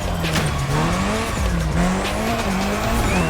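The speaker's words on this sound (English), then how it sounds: "have some quality drift time. Our playground, the airport. Your car, Drift Queen Lancer Evo 6." Drift Queen Lancer Evo 6 sliding around an airport in The Crew Motorfest, engine droning loudly and continuously with rising and falling pitch as tires squeal through the drift, no voices.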